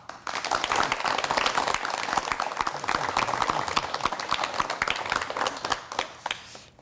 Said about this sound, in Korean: 여러분, 구상 선생님을 박수로 맞이해 주시면 대단히 고맙겠습니다